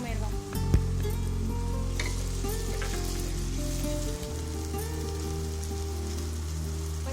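Onions and green chillies with salt frying in a pan, a dense, steady sizzle with crackling spatters close by, a steady hum underneath and a brief knock near the start, no voices.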